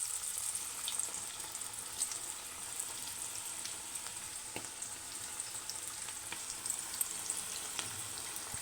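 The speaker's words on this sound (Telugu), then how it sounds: "డీప్ ఫ్రైకి సరిపడా ఆయిల్ ఈ విధంగా మనం పకోడీని వేసుకోవడమే" Cabbage pakoda frying in hot oil, a soft continuous bubbling hiss at low level with scattered small crackles and pops, no talking.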